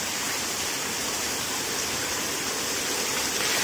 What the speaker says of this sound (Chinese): 今天有下雨啊，水还蛮大的。